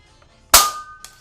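A Wingchester foam blaster by Shellington, under rebuild, dry fires with one sharp, loud snap and a brief metallic ring, then a smaller click a half second later, heard close up with no talking.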